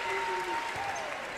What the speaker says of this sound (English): And a very appreciative home crowd.